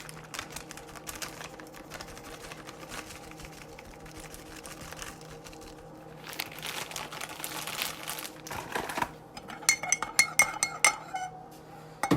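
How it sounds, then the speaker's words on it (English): A spoon stirs hot coffee in a mug close by, scraping and clinking against the ceramic, building from soft rubbing to a run of quick, bright clinks toward the end. "I apologize if my stirring was loud"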